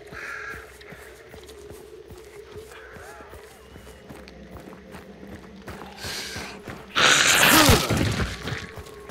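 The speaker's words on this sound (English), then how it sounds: "Birds over there." Crows cawing in the video game Hunt: Showdown, a few harsh caws and a sudden louder burst of flapping and calls near the end, over quiet footsteps and ambient noise.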